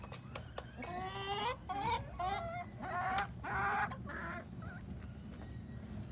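Two buff Brahma bantam hens cluck in a run of short, rising calls, close and fairly clear over a low background rumble.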